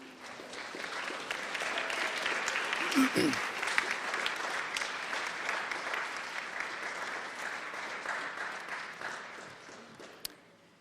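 Audience applause fills a National Honor Society induction ceremony, a steady sustained clapping from a crowd that holds for about ten seconds, fairly loud and dense throughout.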